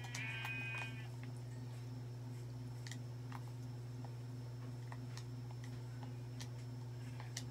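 A single sheep bleats in a survival video game near the start, over a steady electrical hum with faint ticking clicks scattered throughout; otherwise quiet with no talking.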